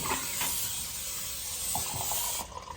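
A can of nonstick cooking spray hisses steadily onto a pan for about two seconds before cutting off, quiet and close.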